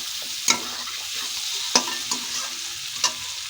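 Ridge gourd and potato sizzle in a pan, a close, steady frying hiss punctuated by a few sharp scrapes and clacks of a spatula stirring, with no voices.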